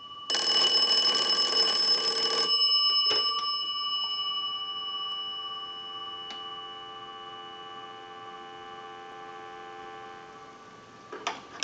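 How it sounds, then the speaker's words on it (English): A wood wall crank telephone's bells ring loudly for about two and a half seconds on a test ring cycle from an analyzer, then decay into a long, fading tonal hum with a few faint clicks, ending in a brief jingle. "use the analyzer and send a ring cycle like you were getting a call"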